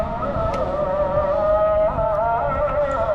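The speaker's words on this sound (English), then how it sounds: "people praying in the mosque." Voices of people praying in a mosque carry out to the street in Tangier, Morocco, as a steady, wavering chant-like tone over a constant hum of outdoor background noise.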